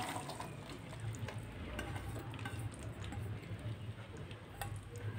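Onion frying in ghee in a cooking pot over medium heat gives a faint, steady sizzle, with light ticking and stirring clicks scattered throughout and no talking.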